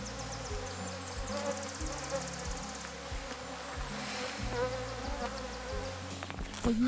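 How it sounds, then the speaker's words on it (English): Mosquitoes buzz in a steady close hum near a gorge portage on a canoe trip toward Hudson Bay, with a continuous whine over quiet outdoor background and no talking. "but we found the mosquitoes."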